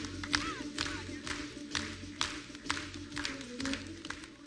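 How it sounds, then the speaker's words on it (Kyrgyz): An audience at an award ceremony claps in a hall, with a crowd murmuring and cheering throughout, sharp claps standing out at moderate distance. "Кол чабуулар."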